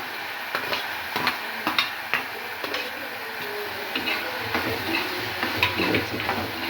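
Onion, tomato and green chilies sauté in a pan for a prawn masala, making a soft continuous frying hiss broken by frequent light clicks and taps of stirring, close and without talk.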